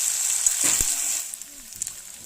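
Garlic paste frying in a pan with chopped onion and green chilies for a Bengali pointed gourd and prawn curry: a steady, close sizzle with a few soft scrapes of stirring, fading slightly toward the end.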